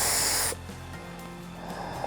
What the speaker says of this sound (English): So now I'm just gonna spray it onto some cardboard